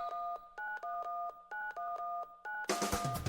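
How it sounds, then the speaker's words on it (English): Telephone keypad sends a quick run of short, evenly spaced dial tones while 911 is called, ending in a burst of broadband noise. "Then pick it up and call 911."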